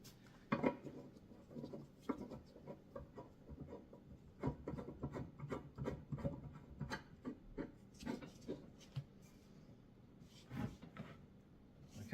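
Bolts being tightened on a tibialis anterior exercise machine, with close, quiet metallic clicks, scrapes and rubbing taps in an irregular rhythm.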